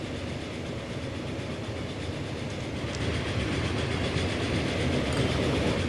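Passenger train running in the game Transport Fever, a steady continuous rumble of rolling wagons and track noise that grows slightly louder midway, with no talk.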